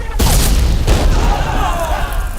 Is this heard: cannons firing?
yes